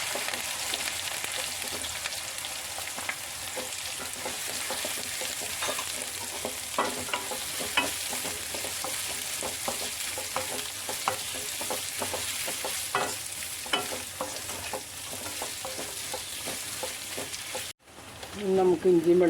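Onions, shallots and curry leaves fry for a chicken curry in a constant loud sizzle, with frequent scraping stirs. Near the end it breaks off briefly, then returns louder.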